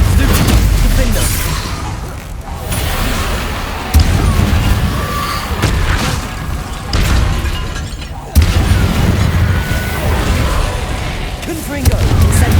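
Bombarda and Confringo spell explosions in Hogwarts Legacy boom repeatedly in heavy, evenly spaced blasts amid constant combat noise, with a voice shouting throughout.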